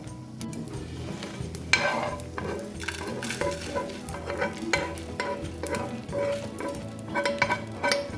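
Roasted masala sizzles and crackles steadily in a hot pan, with a spoon stirring and scraping through it and occasional light clinks of metal, close and fairly loud with no voices.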